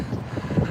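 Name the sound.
wind blowing while walking outdoors in New York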